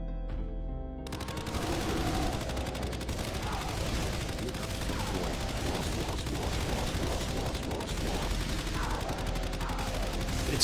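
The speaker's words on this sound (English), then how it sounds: "Rapid fire rockets, maybe?" Rapid-fire rockets shooting in a Doom mod video game, a dense, continuous barrage of rapid blasts and explosions that starts abruptly after a short quiet moment and keeps pounding loudly throughout.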